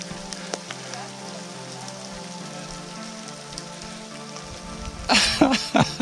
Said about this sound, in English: We're just getting dumped on with hail.